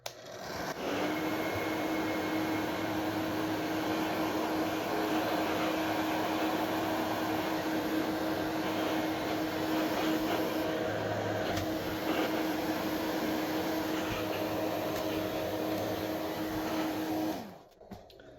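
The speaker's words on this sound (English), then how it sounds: "I'm going to take our hairdryer, heat this guy up, and see if we could go ahead and melt the glue" A hairdryer runs steadily for about seventeen seconds, a loud, even blowing hum with a constant motor whine, heating glue during an N64 console repair before switching off at the end.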